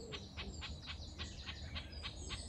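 A garden warbler calls from a bramble clump in spring woodland. Its chirps come as a regular series of short, high notes, close by, over a steady low background hum.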